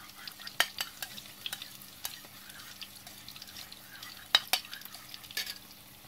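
Tofu frying in a pan, stuffed for a sweet-and-sour dish, makes a faint, low sizzle beneath irregular light clicks and taps of a utensil, close by and quiet, no talking.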